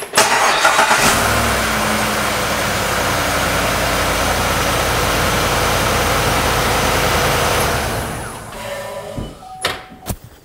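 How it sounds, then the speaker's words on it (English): A car engine on a vehicle undergoing a battery and charging system load test runs with a steady, loud, close rumble for about eight seconds, then fades and gives way to a few brief knocks and clicks. No one speaks. "we're gonna start the vehicle up."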